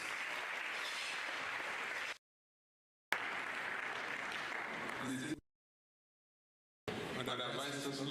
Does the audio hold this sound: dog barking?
no